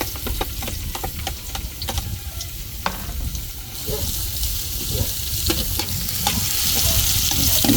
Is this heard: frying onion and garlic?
yes